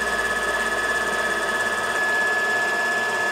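An electric mixer whirs steadily through sago cheese cookie dough, giving a constant, close motor hum with a faint rhythmic flutter and no break, with no voices.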